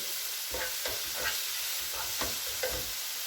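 A spoon stirs pepper into a tandoori chicken filling for pastilla in a sizzling pan, rhythmic scraping strokes roughly every half second over a constant frying hiss, with no voices.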